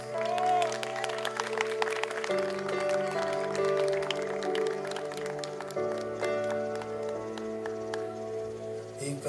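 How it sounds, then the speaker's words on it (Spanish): Crowd applause at a quinceañera during the father-daughter waltz, steady and sustained through the whole stretch, blended under loud waltz music. "Fuerte el aplauso"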